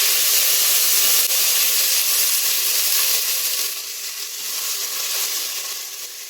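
Large-cut onions sautéing in a pot for Ambur chicken biryani, a continuous close sizzle and steamy hiss that holds steady, then eases slightly toward the end.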